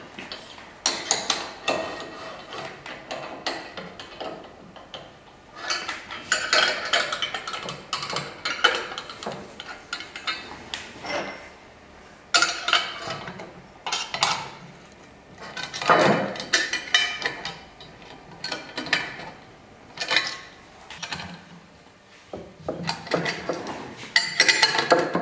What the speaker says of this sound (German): Okay, dann schraube ich das jetzt erstmal.